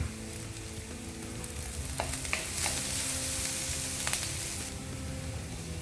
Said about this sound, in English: Let's saute that as well in the oil.